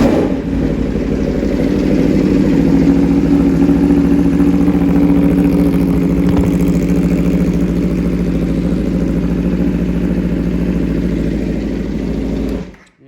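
A 2020 Aprilia RSV4 1100 Factory superbike idles steadily through a Graves slip-on exhaust, a close, loud, even rumble that holds for about twelve seconds before cutting off abruptly.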